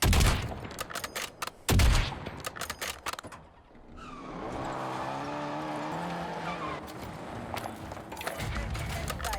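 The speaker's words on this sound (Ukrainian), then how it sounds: "Хтось газує." A car engine revs and roars nearby for several seconds after a few sharp bangs, with a high whining pitch rising over the engine noise.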